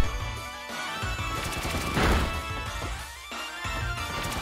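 A rapid burst of Pin Missile strikes from Pokémon Sword rattles as a dense run of sharp impacts, with a brief crashing swell in the middle, playing loudly alone over game music.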